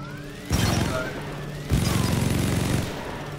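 A gun in Deep Rock Galactic fires at blue material in two loud, rapid bursts of dense automatic fire, each about a second long, with crackling impacts and a faint electronic tone underneath.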